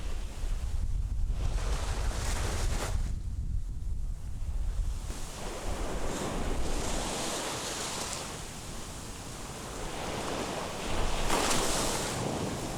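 Ocean waves wash onto Songdo beach in Busan in the early morning, a continuous roar of surf with swelling surges and wind noise buffeting the microphone, no talk.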